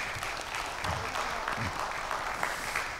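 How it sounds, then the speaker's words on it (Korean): An audience claps after an academic presentation at a Korean scholarly cultural festival, steady moderate applause with no voices heard. "여러분 박수 한번 쳐주시기 바랍니다"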